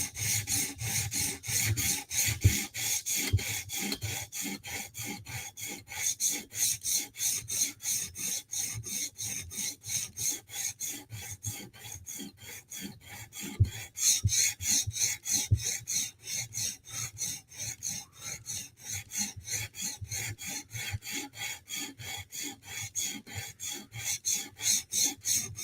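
A knife blade being sharpened with a file, steady back-and-forth rasping strokes in a fast, even rhythm, close and continuous with occasional brief pauses and no speech.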